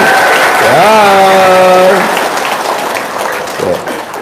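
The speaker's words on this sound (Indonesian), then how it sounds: "Sekali lagi tepuk tangan." An audience at an indoor seminar claps again, a dense patter of hands under and after a sustained voice ringing out near the start, fading slightly toward the end.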